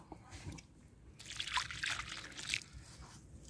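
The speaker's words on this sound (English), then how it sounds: "What you want to do now is to put a lot of water, right, as much as possible" Water poured by hand onto the soil around a newly planted tree, a faint, uneven trickle and slosh that swells and eases with no talking.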